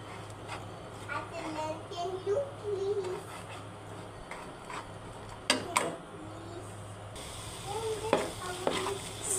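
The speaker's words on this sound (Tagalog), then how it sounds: "Nagka-caramelize lang ako ng sugar. Hindi na ako naglalagay ng mantika." Sweet potato cooking in caramelizing sugar without oil for kamote cue, a soft, steady sizzle and bubbling with occasional stirring scrapes and clinks, close by, with some faint background voices.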